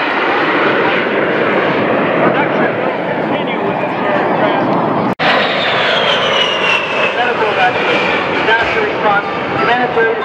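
F-16 fighter jets roar overhead at a Miami Beach air show, a loud sustained engine rumble with a brief cut midway, while an announcer talks over it.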